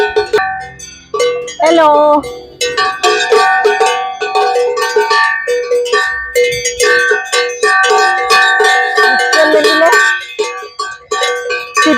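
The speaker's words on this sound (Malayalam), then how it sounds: "അവരുടെ എല്ലാം കഴുത്തില് ഒരു ബെല്ല് തൂക്കിയിട്ടുണ്ട്, ഒരു മണി." Cows in a Swiss Alpine village clang the bells hung around their necks in a loud, close, overlapping jangle of ringing tones, and a voice briefly calls out.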